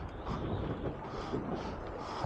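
Wind blows over a fishing boat out on a choppy sea, a continuous low buffeting rush that stays fairly faint and even, with no voices heard.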